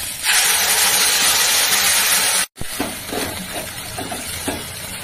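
Poppy seed paste goes into frying snake gourd (chichinga) in a hot pan. A loud, steady sizzle cuts off abruptly, then softer sizzling returns with faint stirring scrapes.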